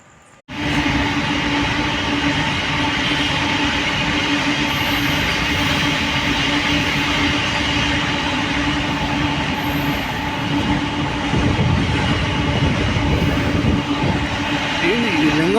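A train rolls through Lingampalli railway station at night, its loud continuous rumble with a steady tonal whine and clattering wheels starting abruptly and holding throughout, faint squeals near the end.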